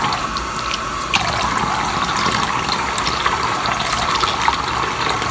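Tap water runs steadily into a sink while a lace closure is rinsed under it, a continuous close splashing flow with no talking.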